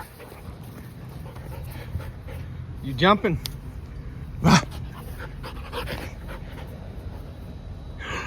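A dog pants steadily and rhythmically close by, breathy and continuous, with a couple of brief whimpers or snorts partway through while a person speaks softly to it.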